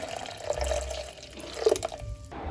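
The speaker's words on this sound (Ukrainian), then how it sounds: "Заливаємо пиво." Beer is poured into a mixture for a Harry Potter–themed Halloween treat, giving a soft, close liquid stream with light splashing and trickling that stops abruptly near the end.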